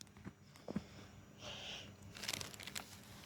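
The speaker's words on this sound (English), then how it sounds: "Hear my footsteps." Footsteps crunch over ground in a cemetery, a few irregular steps close by with crinkling and rustling, quiet and mostly alone with faint background noise.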